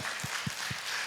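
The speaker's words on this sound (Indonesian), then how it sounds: "Beri tepuk tangan untuk kita semua" An audience at a storytelling workshop claps in four slow, distinct beats in unison, each a short dull thud, spaced evenly over about a second.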